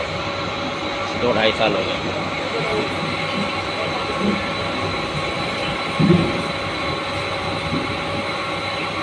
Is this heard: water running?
no